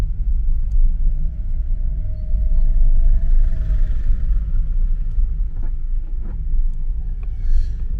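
Steady low road rumble of a car being driven, with a faint tonal whine and occasional bumps, continuous and fairly loud from inside the cabin.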